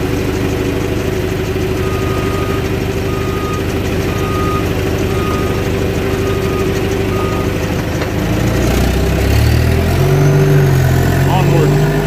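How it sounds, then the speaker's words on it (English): A skid steer's diesel engine runs steadily and loudly while it lifts a heavy load of sycamore logs, with a repeating backup beep and a deeper engine surge near the end; a person talks over it. "Skid steer starting to come up off the ground a little bit."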